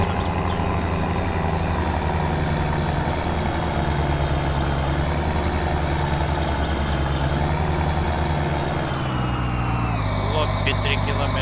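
Tractor engine idling and running in the game BeamNG, a continuous low rumble at steady volume, with someone talking over it.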